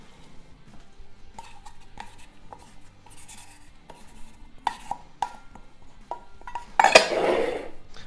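Cookie dough with egg is stirred in a bowl with a spatula, giving soft scraping and light knocks against the bowl, followed by a louder rough scrape near the end.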